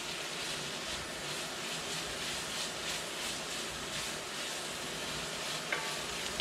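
Tomato paste being stirred into vegan sausage with peppers and onions in a pan, a steady close sizzle with soft scraping throughout and a couple of sharper clicks near the end.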